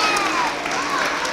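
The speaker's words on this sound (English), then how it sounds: "I love how I hear the kindergartners cheering your friends on." Kindergartners cheer and clap at a school awards assembly in a short burst of crowd applause and excited voices, heard fairly close in a big room, with adult speech over the top.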